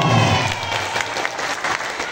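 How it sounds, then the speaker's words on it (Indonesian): Brief burst of audience applause in an Islamic school Ramadan program hall, loud and dense clapping that sustains without speech for about two seconds. "tepuk tangan dulu saya"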